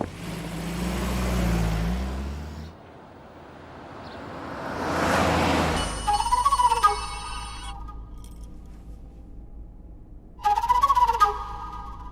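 A phone rings indoors in two separate bursts of harmonic electronic tones, the first lasting about two seconds and the second shorter, with quiet gaps and muffled noise before them.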